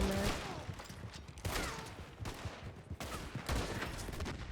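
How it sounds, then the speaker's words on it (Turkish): Rapid bursts of revolver and rifle gunfire from several players in Red Dead Online crackle in overlapping volleys, with a voice speaking under the shots. "Hepsi birden sıkıyor bana."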